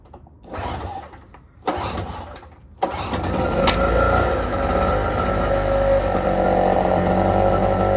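A Honda INH 2000 inverter generator pulls over with a few short coughing bursts, then catches and settles into a steady, loud, even mechanical hum, running on its own with no load.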